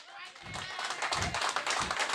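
Men in a comedy club audience clap rhythmically in steady bursts alongside crowd noise and a voice.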